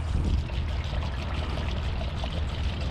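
Fuel being poured into the gas tank of a 2021 Nissan Rogue while it pumps, a steady close, loud liquid rush and gurgle running continuously without any voices.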